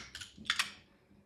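A computer keyboard clacks through a short burst of typing while entering a value in Blender: a few quick, crisp key taps close to the mic, then quiet.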